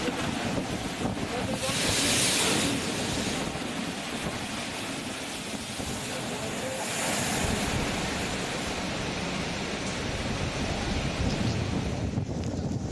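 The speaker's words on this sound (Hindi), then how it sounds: "80 से 200 किलोमीटर प्रति घंटे की रफ्तार से चलती हुई तेज हवाएं" Strong cyclone winds from Cyclone Amphan roar continuously with crashing waves and surf, a loud, steady broadband rush with gusty surges and wind buffeting the microphone throughout.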